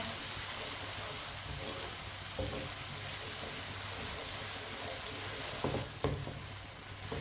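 Tomatoes and green chillies cook in a pan for an aloo methi dish, giving a steady, close sizzle with soft stirring scrapes and a few clinks toward the end. No one speaks.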